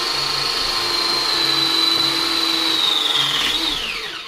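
A battery-powered press tool runs its cycle during a combi boiler swap, a loud, close motor whine that holds a steady pitch, sags slightly near the end, then winds down.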